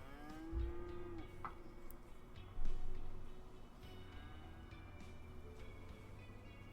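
In the video game Cities: Skylines, cows moo a few times at a distance over a low, steady background hum, with one louder, longer moo midway.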